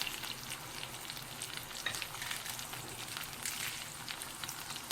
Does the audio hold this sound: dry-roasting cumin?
yes